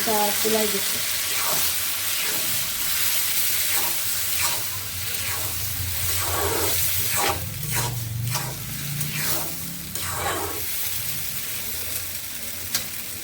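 Dal simmering and sizzling in a pot on a home stove, with a steady frying hiss and occasional stirring clinks, close and continuous with no talk.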